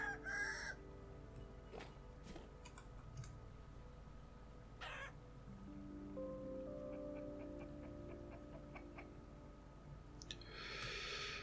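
Chickens clucking and a rooster crowing in the Vintage Story video game, faint calls and tonal crows spread across a quiet background with no talk.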